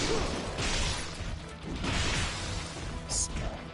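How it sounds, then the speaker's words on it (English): A heavy weapon smashes into enemies' heads in Ninja Gaiden 2 Black, several loud crunching impacts and whooshing swings layered over busy game noise. "Smashing heads is pretty fun."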